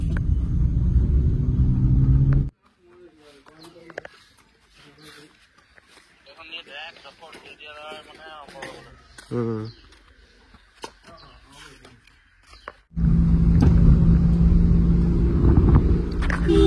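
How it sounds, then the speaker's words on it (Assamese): A Chevrolet Spark used car driving with a noisy exhaust silencer that has holes. A loud, low engine rumble fills the start and end, and a quieter middle stretch carries a person talking. "খালি চাইলেঞ্চাৰটো চাউণ্ড আহি আছে, চাইলেঞ্চাৰটো ঠিক কৰি দিম।"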